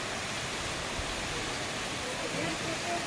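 A mountain waterfall pours down the hillside in fog. It makes a steady, broadband rushing roar that stays unbroken for the whole stretch, with no voices over it.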